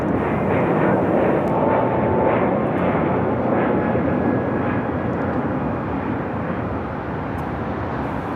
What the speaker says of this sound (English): Looking at United Airlines flight 1926 coming up from Dulles on a 757-300 now crossing over